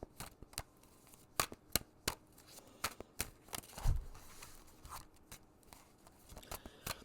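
Tarot cards shuffled by hand in a quiet room, a rapid run of crisp riffling snaps and slaps with a brief heavier thump midway, close and fairly soft with no talking.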